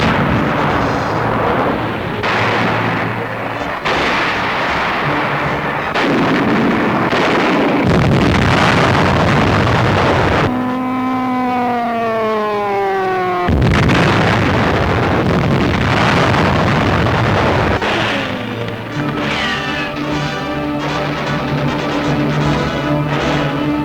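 WWII infantry of the 37th Division clear Japanese snipers from a valley near Baguio on Luzon. Continuous heavy blasts and gunfire roll under wind noise, with a brief whistling tone partway through.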